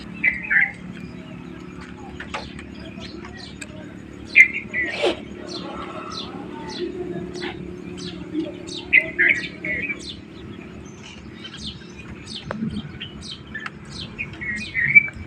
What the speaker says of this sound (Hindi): आप पक्षियों की आवाज़ सुन सकते हैं